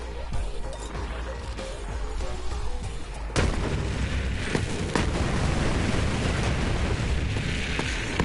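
A grenade detonates in Borderlands 3 inside an underground cave, a sharp loud blast that breaks into a dense, rumbling roar with further crashing bursts trailing after it.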